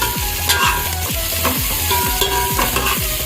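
Ginger frying in a pan for avarekalu sambar, a loud continuous sizzle under a regular rhythmic scraping of a spoon stirring against the pan, close and busy.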